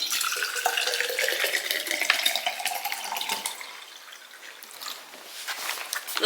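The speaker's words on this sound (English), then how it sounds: "And then I'm just gonna fill up his water bottle." Tap water runs steadily into a child's water bottle at a kitchen sink, a close rushing stream with a rising fill tone and no talking.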